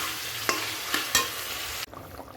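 Masala for a fish curry stir-fried in a pan, a steady broadband sizzle with a few sharp scraping strokes of the spatula, ending abruptly into quieter background.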